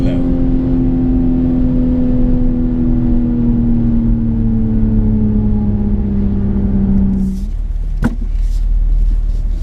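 A 2019 BMW Z4 M40i launching hard from first gear, its engine note climbing loud and steady close by, then a sharp break as it shifts and pulls on with a rougher roar and a click.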